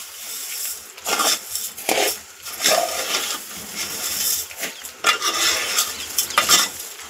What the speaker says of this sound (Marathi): तांदूळ धुवून घेतले होते ते आपण ह्यामध्ये टाकून घेऊया। ते 2 मिनिटं परतून घेऊया सगळं व्यवस्थित।